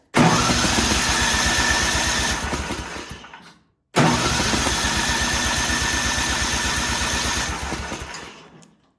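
A snowblower engine, long left sitting in a barn, cranks on choke and roars to life twice in a row, running loudly for a few seconds each time before dying out.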